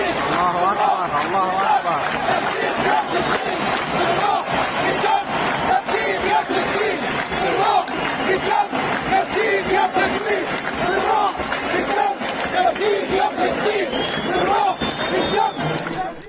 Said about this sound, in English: crowds sang the words, "With spirit and blood, we will redeem you,